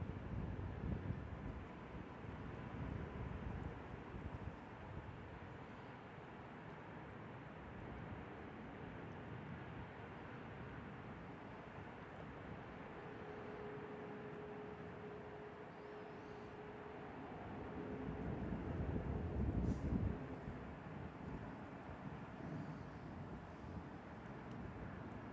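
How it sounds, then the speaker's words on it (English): An airliner takes off at San Francisco International Airport, a distant low jet roar that rumbles steadily and swells toward the end, mixed with wind buffeting the microphone. "enjoy this beautiful takeoff right here"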